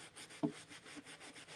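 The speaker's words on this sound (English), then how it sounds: "So I'm just rubbing the whole thing down." Someone rubs down a plastic Dollar Tree ghost blow mold with a cloth, making soft, repeated close scrubbing strokes in a steady rhythm, with one sharper bump partway through.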